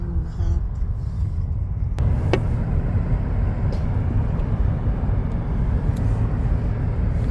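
A car drives along a road toward a shopping center, giving a steady, loud low rumble of engine and tire noise throughout, with a couple of faint clicks.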